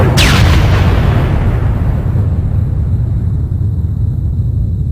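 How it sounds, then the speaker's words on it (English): Orbital bombardment of a planet's green atmosphere in the 1996 live-action Warhammer film Inquisitor: a loud, sharp explosion at the start rolls into a heavy, sustained low rumble that stays thick and powerful throughout. "We then meet Fleet Admiral Arteries, watching this planet's poorly rendered green soup of an atmosphere get bombarded from orbit."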